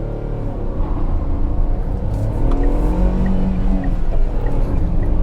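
Car engine revved up to 5,000 RPM with the clutch pressed, a continuous loud rumbling drone that builds and holds, sounding strained at the top of the rev range.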